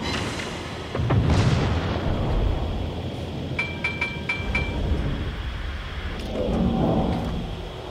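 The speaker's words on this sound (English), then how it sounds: "Send out shots to the uh, Mogami" Naval guns firing shells at the cruiser Mogami in World of Warships: a heavy boom opens the salvo, followed by rumbling blasts and distant impacts under steady battle din, with a second swelling boom near the end.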